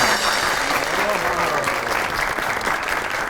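A studio audience on a Pakistani comedy talk show applauds to welcome a singer onstage, with steady, dense clapping throughout and some voices faintly mixed in underneath.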